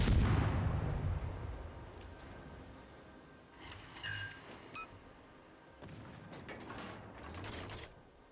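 Naval gunfire in the World of Warships video game: a loud boom opens, then a second burst of firing with mechanical clatter around four seconds and another volley near six seconds, with rumbling tails between.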